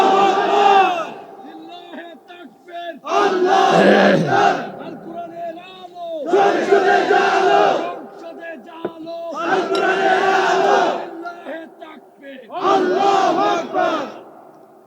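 A large crowd chants a takbir response in unison at a Bangla religious sermon gathering, five loud bursts of massed voices roughly every three seconds with brief silent gaps between them.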